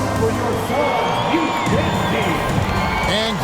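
Virtual NBA arena crowd in a Warriors vs Suns basketball video game, a dense roar of cheering and applause with shouts and whoops, with a voice speaking over it.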